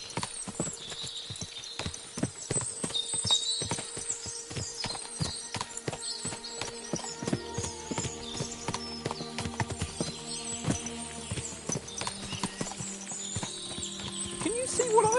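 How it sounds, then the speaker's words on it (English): Many horses in the video game Kingdom Come: Deliverance 2 clip-clop steadily on the ground, close and continuous, with a whinny rising through the hoofbeats and faint mechanical rattles behind. "What a lot of horses!"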